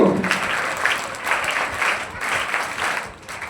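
Audience clapping at a school annual results event, a short burst of applause from a crowd that pulses in loose waves and fades slightly at the end.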